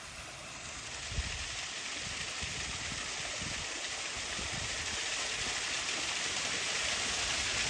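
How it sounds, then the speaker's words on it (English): Steady rushing water from Hollingworth Clough Waterfall pours continuously, a broad hiss with no breaks, heard from nearby. "This is Hollingworth Clough Waterfall."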